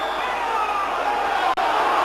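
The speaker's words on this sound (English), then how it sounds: "the cheer by the Argyle fans as if they've scored a goal themselves" Plymouth Argyle football fans fill a stadium with a loud, sustained roar of cheering during a 1996/97 match against Notts County, a dense steady crowd noise that briefly dips once near the end.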